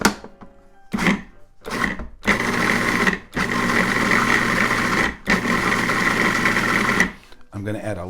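Food processor blending basil pesto in long pulses, several loud motor bursts of varying length with short gaps, ending with brief speech.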